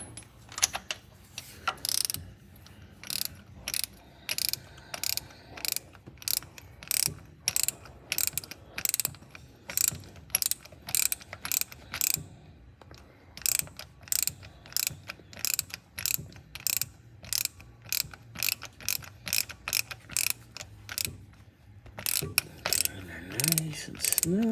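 A hand ratchet tightens a part on a 1956 Ford Thunderbird during an ignition coil, points, cap and rotor replacement, giving rapid close clicking bursts in repeated strokes with short pauses between them.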